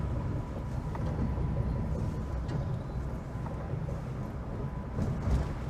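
A 1976 Peugeot 204 driving along, its engine and road rumble steady and low, with a suspected worn front-right wheel bearing adding to the droning noise; no voices.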